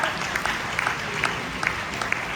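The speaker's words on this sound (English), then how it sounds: "Round of applause for Ant Farm." Audience applause for a startup competition winner at a generative AI keynote, a steady wash of clapping with scattered sharper claps, moderately loud and continuous throughout.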